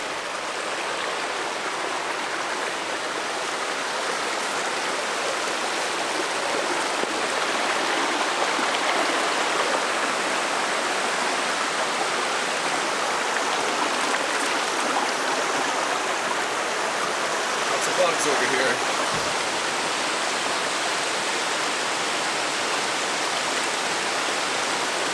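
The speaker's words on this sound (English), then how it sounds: "Let me check out this waterfall real quick." A waterfall on a lake portage route during a canoe camping trip, giving a steady, full rush of falling water that lasts throughout with no voices.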